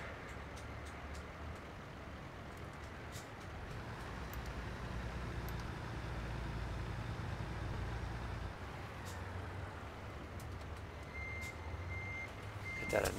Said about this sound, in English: annoying high pitched backup alarm on.